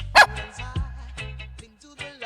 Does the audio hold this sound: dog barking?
yes